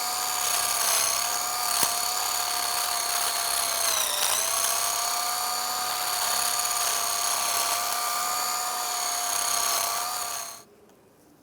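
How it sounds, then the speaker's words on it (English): A power wire brush whines steadily against the rear knuckle of a 2004-2010 BMW X3 during a lateral link bushing job, loud and close for about ten seconds before cutting off. "Now I'm just going to take a wire brush and just clean this up a little bit."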